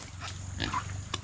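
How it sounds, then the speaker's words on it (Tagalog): A pig kept to be butchered for a birthday feast, giving short close grunts and a brief squeal over a low background hum. "Yan mga kautol yung ating baboy."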